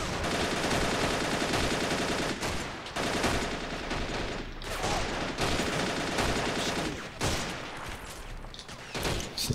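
Sustained MG34 machine gun fire in the Valkyrie mod war game, loud dense bursts of automatic shots rattling almost continuously, with brief lulls between volleys.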